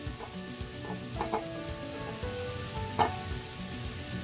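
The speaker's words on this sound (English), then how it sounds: "On this side, on this pan, I am gonna heat some butter and get our eggs started" Eggs cook in butter in a pan, giving a continuous close sizzle with a few brief louder spits and crackles, no voices present.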